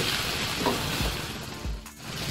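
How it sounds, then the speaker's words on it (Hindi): Masala roasting in a pan over low heat for moong dal chilka, a soft steady sizzle with a couple of faint stirring scrapes. "हल्की आंच रखनी है ताकि मसाला हमारा अच्छे से भून जाए।"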